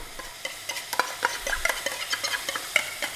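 A spoon stirs watered-down tomato puree into a chicken chasni curry in a pan, giving irregular soft scrapes and clinks over a faint sizzle, close and fairly quiet.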